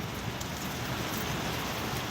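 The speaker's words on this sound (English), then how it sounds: "And it is raining heavy here" Heavy rain pouring during a storm on Lake Ontario, a steady dense hiss of drops on surfaces, close and unbroken, with no voices.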